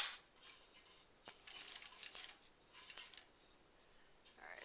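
Scissors snip loose thread during quilt block sewing, a few faint, sharp metallic clicks spaced apart in a quiet room.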